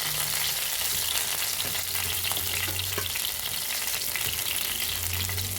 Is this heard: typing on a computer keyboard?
no